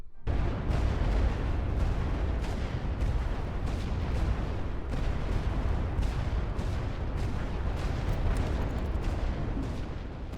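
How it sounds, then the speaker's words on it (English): Sustained World War I artillery bombardment in The Great War: Western Front, a dense roaring wall of booms and blasts that stays loud and steady throughout, with no voices. "So, now begins the 2-week-long bombardment."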